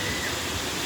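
Steady, dense rushing of a waterfall at a forest resort, a constant roar with no breaks or voices.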